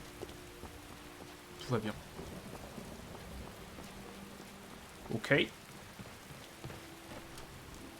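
Steady rain falls in the video game Skyrim, a soft continuous hiss with two louder rumbling swells, while someone speaks briefly over it.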